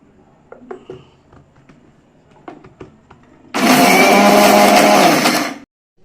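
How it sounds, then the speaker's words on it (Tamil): Roasted coriander seeds and black pepper are ground into sambar powder in an electric mixer grinder, which roars loudly for about two seconds after a few quiet handling knocks and then stops abruptly. "போட்டுட்டு இதை பவுடராக அரைக்கலாம்"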